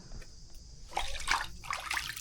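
Clean, cold water trickles and splashes steadily below the Kalavantin Durg pinnacle, growing louder and busier partway through, with a faint hiss in the background and no voices.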